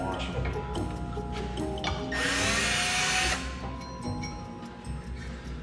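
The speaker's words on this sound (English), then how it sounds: "Putting a little chamfer on these so the washer and the bolt head all sits nice and straight" A power drill cuts a small chamfer into a bolt hole on a spindle for a washer and bolt head, a steady whirring burst of about a second amid workshop clatter, with someone talking nearby.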